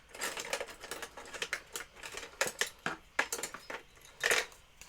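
Someone rummages through craft supplies for a ruler, making soft scattered clatters, taps and scrapes of small objects being shifted, fairly quiet and close with no voices.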